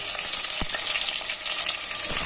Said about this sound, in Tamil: அந்த வெங்காயம் இதில் ஆட் பண்ணிடலாம் நம்ம.